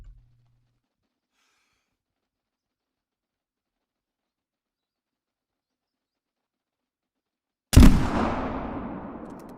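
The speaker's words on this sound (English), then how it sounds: "Let's take one out with the muzzle loader." A single loud muzzle loader rifle shot bursts out near the end after long near-silence, its sharp crack followed by a long decaying rumble.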